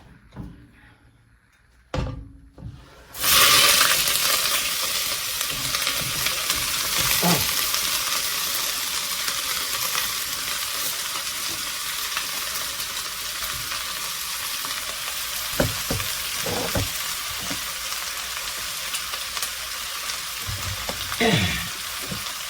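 Onion and celery dropped into a hot stew pot: after a quiet start and a couple of clunks, a loud sustained sizzle bursts up and continues steadily, with occasional stirring knocks, near and alone.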